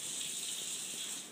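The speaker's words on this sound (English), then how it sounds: "let's go over to the sink and fill up the coffee pot" Water runs steadily from a sink tap into a coffee pot, a continuous hissing gush at moderate level with no voices over it.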